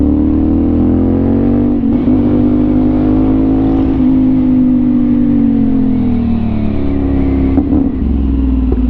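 A CFMOTO 450NK motorcycle fitted with an Orion aftermarket exhaust revs loud and close, a deep droning engine note that swells and eases in a few gentle rises, with no talk over it.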